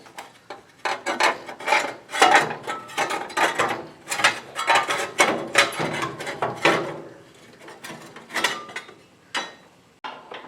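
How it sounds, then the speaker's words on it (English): Ratcheting and metallic clicking from tools working loose the cooling fan of a 1937 Chrysler engine, in quick irregular bursts of close wrench and bolt clatter, with no talking. "Now we're taking the fan off, the cooling fan."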